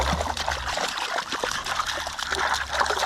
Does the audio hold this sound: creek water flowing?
yes